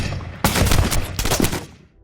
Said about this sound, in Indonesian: Rentetan peluru menembus tubuh Ik-ho dari berbagai arah.